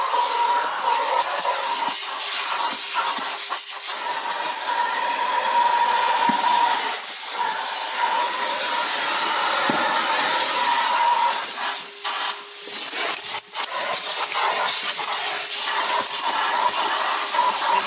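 A central vacuum hose fitted with a crevice tool works over the uneven interior surfaces of a car in a garage, giving a steady, airy rushing hiss with brief changes in pitch as the nozzle moves around.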